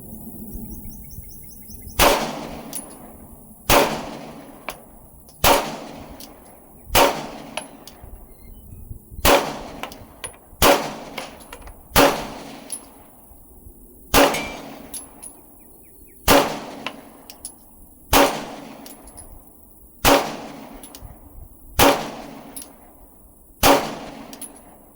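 Glock 19X pistol shots fired one at a time at a range, about a dozen sharp loud reports spaced a couple of seconds apart, each followed by a short echoing decay.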